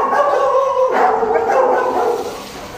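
A big K9 unit dog barks and whines close by, with loud tonal yelps and a drawn-out howling quality.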